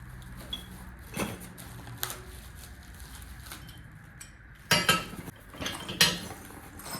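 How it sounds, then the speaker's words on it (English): Loose metal engine stand hardware rattles and clinks inside a cardboard box, with scattered jangles and a few louder bursts of shaking near the end, close by, with no talking. "That sounds like some hardware."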